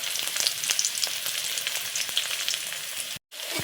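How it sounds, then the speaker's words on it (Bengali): Onions frying in oil for a dal tempering crackle and sizzle briskly up close, with sharp popping spits throughout and a brief dropout near the end. "তো এই যে দেখো লাল লাল হয়ে গেছে ভাজা পেঁয়াজটা"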